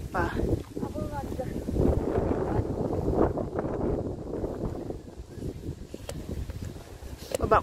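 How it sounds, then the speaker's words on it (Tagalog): Gusty wind buffets the microphone in a steady low rumble, with voices talking over it throughout. "Kasi mahangin."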